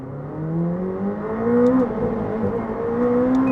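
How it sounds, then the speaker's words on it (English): McLaren 765LT Spider accelerating while its twin-clutch gearbox fires off quick upshifts; the engine note climbs, drops sharply at each shift and climbs again, heard from inside the car at moderate loudness with no talk. "Gearbox, just listen to how fast this thing shifts. This twin clutch."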